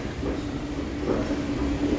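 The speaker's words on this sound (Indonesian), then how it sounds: "Sampailah di stasiun MRT Tanjung Pagar." An MRT train at Tanjung Pagar station in Singapore, a steady rumbling roll with a faint whine, moderately loud and continuous, no talking.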